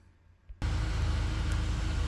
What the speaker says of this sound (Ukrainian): Заводимо машину, тестуємо.